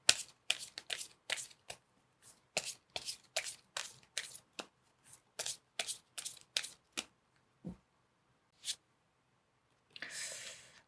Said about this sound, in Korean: 먼저 9개의 칼날과 제가 오라클 카드도 2가지 뽑아 보도록 하겠습니다